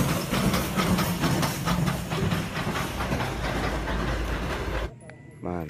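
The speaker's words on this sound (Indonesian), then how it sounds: "ini ada kereta api uap teman-teman" A toy steam train runs with a steady hiss and chugging clatter, then cuts off abruptly near the end, leaving a brief quiet tail.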